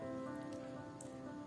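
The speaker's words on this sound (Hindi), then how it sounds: "तेज हवा के झोंकों के साथ बारिश शुरू हो गई" Rain effect accompanying a narrated moral story, a brief faint patter of drops on a surface, steady and soft, heard alone for about a second and a half.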